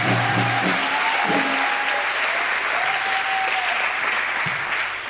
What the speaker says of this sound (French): Donc je vous demande d'applaudir encore une fois bien fort Fousseni.